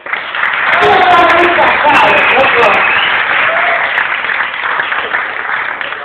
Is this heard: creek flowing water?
no